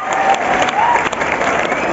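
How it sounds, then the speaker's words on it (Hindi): Loud, dense applause from a large crowd at a recognition ceremony at Gandhi Maidan in Patna, filling the whole stretch as a steady roar of clapping with faint crowd noise mixed in. "जोरदार ताली होना चाहिए दोस्तों, जोरदार ताली होना चाहिए"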